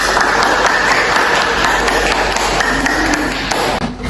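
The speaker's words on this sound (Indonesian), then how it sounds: "Boleh tepuk tangan untuk Saudari Delta." A room full of people claps steadily for a guest speaker being welcomed onto an education-themed podcast set, a dense, continuous applause that stays loud and close throughout.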